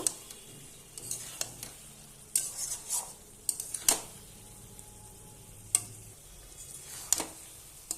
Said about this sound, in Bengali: ডিমগুলো দিয়ে একটু খুলে ভালোভাবে একটু কষাবো আমি তেল ছাড়া পর্যন্ত।